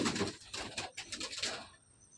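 A Madrasi pigeon at a loft in Basirhat gives a short run of soft, pulsing coos close by, several quick throaty notes that fade out within two seconds.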